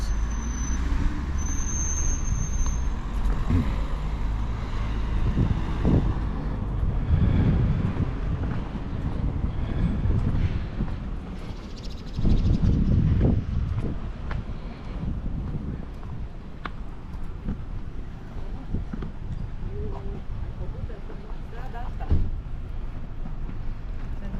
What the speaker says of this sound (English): It's very windy here. You get big waves.